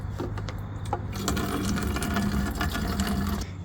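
Stale fuel flowing steadily through a Harbor Freight siphon pump while draining the tank of a Motobravo Roma 150cc scooter, a continuous close trickling and gurgling with no talk.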